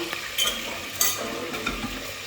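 Boiled chicken frying in oil: oil sizzles and crackles close by, with a few sharp pops and utensil clinks over the continuous frying hiss.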